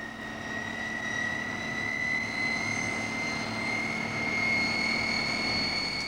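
Steady propeller-driven airplane engine drone near a remote East Kimberley station, with a constant hum and sustained tonal whine holding evenly throughout, no talking.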